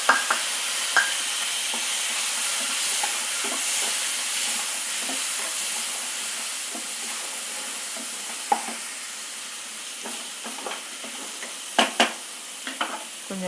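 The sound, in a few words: tomato frying and sizzling in a pan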